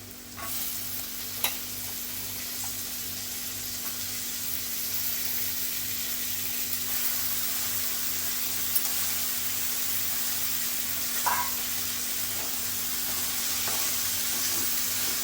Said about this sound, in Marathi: आता आपण कारली घालायची आहेत